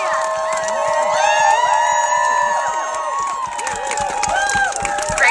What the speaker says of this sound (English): Let's give a cheer.